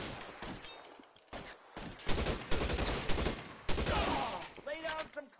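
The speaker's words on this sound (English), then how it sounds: "Lay down some covering fire." Bursts of covering gunfire ring out in a military shootout in LA Noire. The sharp, loud volleys come in clustered rapid shots, with brief pauses and a voice between the bursts.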